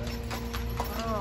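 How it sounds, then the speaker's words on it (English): A horse on a street in the French Quarter of New Orleans clip-clops with a few close, even hoof strikes on pavement during a brief moment, while a person speaks over it. "There's a horse coming down the street."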